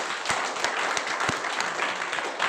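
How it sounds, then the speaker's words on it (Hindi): An audience at an RCM business seminar applauds, a continuous fairly quiet patter of many hands with a few sharper individual claps standing out, no talking over it. "तो एक बार ताली आरसीएम बिजनेस के लिए।"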